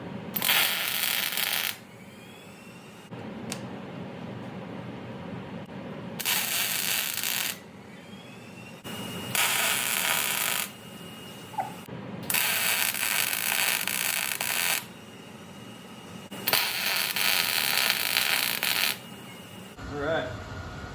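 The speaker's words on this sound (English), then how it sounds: "I'm just going to get it tacked into place to start with, and then just" Short tack welds are struck on a concrete sink's metal frame, heard as four or five loud crackling, hissing bursts of a couple of seconds each, separated by quieter pauses.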